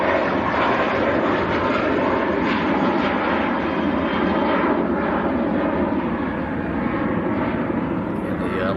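A jet airliner departs Manchester Airport for Istanbul, a loud continuous engine roar with rumbling low end that stays strong and close throughout.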